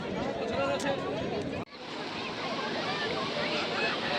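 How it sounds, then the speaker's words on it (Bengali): Sea waves wash ashore at Digha beach in a continuous broad roar that briefly drops out and then resumes, with people talking and crowd chatter over the surf. "ঢেউ আসছে।"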